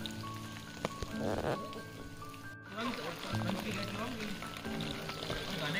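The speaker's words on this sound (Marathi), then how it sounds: "आपला हा ट्रेक पावसामध्ये चालू आहे आपल्या छत्रीमध्ये." Rain patters steadily on an umbrella during a wet trek to Tiger's Nest Monastery in Paro, Bhutan, a dense close hiss that runs throughout with a faint voice underneath.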